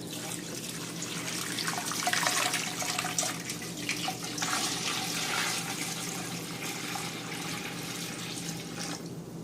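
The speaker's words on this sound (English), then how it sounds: "to this I'm going to go ahead and add the water" Tap water runs steadily into a container for brining chicken, a continuous hissing, splashing stream that stays close and moderately loud, with no speech.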